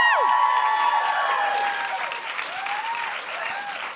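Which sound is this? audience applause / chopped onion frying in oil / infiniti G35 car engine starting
audience applause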